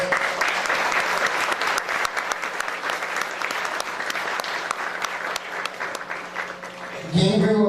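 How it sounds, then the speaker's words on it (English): An audience at a charity foundation gala applauds a bereaved family: sustained, dense clapping from a large crowd for about seven seconds, fairly loud and even, then fading as a voice begins. "Please let's give them a round of applause."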